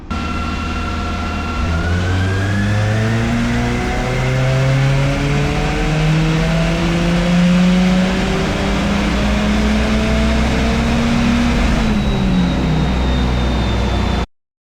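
Turbocharged car engine on a dyno at 15 psi of boost, its pitch climbing steadily as the revs build through a long, loud pull with a whistling overtone, then cutting off abruptly near the end.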